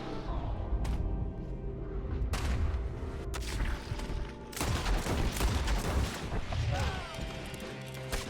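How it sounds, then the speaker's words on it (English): Steady gunfire fills a shootout in Red Dead Redemption 2, with overlapping rifle and pistol shots, booms and crashes sounding loud and continuous throughout. "Who's shooting me still, though?"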